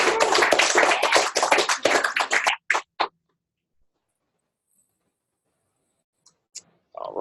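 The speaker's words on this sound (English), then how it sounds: "Round of applause for Katie" A small group applauds a team member during a company-wide weekly webcast, a short burst of claps that thins to a few last slaps and then falls to near silence, with faint ticks near the end.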